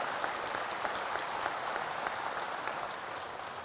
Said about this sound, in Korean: 지지하는 사람 박수 해봐요.